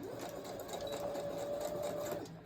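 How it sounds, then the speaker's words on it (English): A sewing machine stitching elastic onto a cloth mask, a continuous fast close whirr that runs steadily and stops at the end, with no talk. "I'm going to sew this 1/4 of an inch from that raw edge and backstitch over that elastic a couple times"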